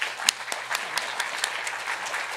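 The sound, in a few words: audience applause for Andrew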